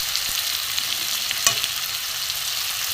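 Spice masala with onion, ginger, turmeric, chili, cumin and garam masala powders sautés with a splash of water for egg curry, a steady close sizzle with a single sharp stir or tap midway.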